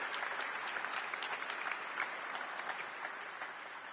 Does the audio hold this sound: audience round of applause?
yes